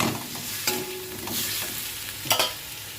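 A garlic, ginger and onion paste cooks in a pan with no oil, crackling with a constant sizzle while a utensil stirs and scrapes now and then, including a brief squeak and a couple of louder knocks.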